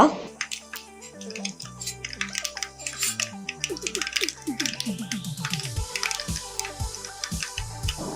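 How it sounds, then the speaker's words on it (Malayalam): Mustard seeds splutter in hot coconut oil, close and busy, with irregular sharp pops and crackles throughout. "അങ്ങനെ നമ്മുടെ കടുക് പൊട്ടിക്കഴിഞ്ഞു"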